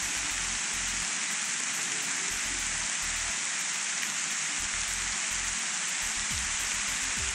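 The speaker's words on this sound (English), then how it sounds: "Beautiful rain." Rain falls steadily on a new maize farm in Zambia, a dense continuous hiss of drops hitting surfaces, loud and even throughout with no voices.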